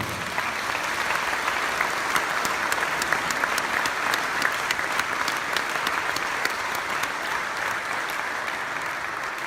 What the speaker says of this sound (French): je voudrais que nous fassions un tonnerre d'applaudissements pour Alias.